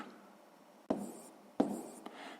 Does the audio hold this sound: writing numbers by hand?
yes